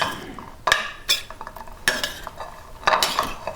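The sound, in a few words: stirring bringhe in a pan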